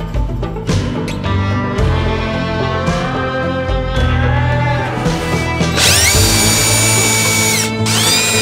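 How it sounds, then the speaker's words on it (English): A power drill drives screws into a commercial-grade truck mud flap, its motor whining loudly and close in repeated bursts that rise in pitch. A harsher, higher burst of revving comes near the end, with no voices. "there's a couple more screws I'd like to get in, but it's not going"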